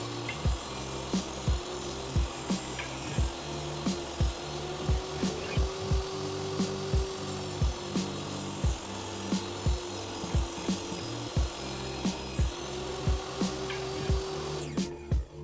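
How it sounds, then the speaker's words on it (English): A table saw blade cuts a groove into lumber boards for a custom door, a steady machine hum with rhythmic rasping bursts as the wood feeds through, close and continuous for the whole stretch. "I just brought the saw blade in a little bit more, and that should give me the full groove"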